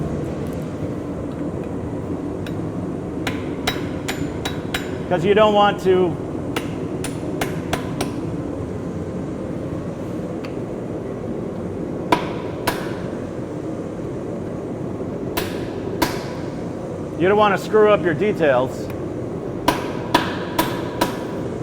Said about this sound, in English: you really want to do this with a wooden hammer